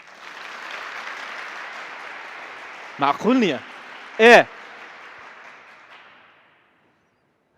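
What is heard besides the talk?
audience applause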